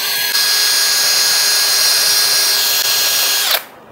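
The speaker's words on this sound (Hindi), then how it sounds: "उसके लिए मैं इस रोटर को ड्रिल चक में पकड़ के थोड़ा सा ग्राइंड करूंगा फाइल की मदद से।" A power drill spins a small pump rotor clamped in its chuck while a file grinds its face to a taper for a homemade car wash pump; steady loud whine with scraping that runs nearly four seconds, then abruptly stops.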